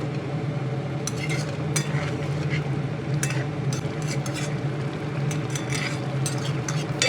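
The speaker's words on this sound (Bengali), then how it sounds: "ধনেপাতা কুচি দিয়ে বন্ধুরা এই ওলকপি, নতুন আলু ও চিংড়ির তরকারি ভালোভাবে নেড়ে চেড়ে দিয়ে চুলা বন্ধ করে দেব" A spoon stirs a kohlrabi, new potato and shrimp curry with chopped coriander in a pan on the stove, giving a continuous close simmering hiss with scattered scraping and clinking strokes throughout.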